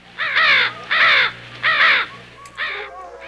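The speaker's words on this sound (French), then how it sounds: "quelques corbeaux noirs volent de la glace rouge" Crows cawing near a seal hunting boat on red-stained ice, four loud harsh calls in a slow irregular series, close and clear with no talk.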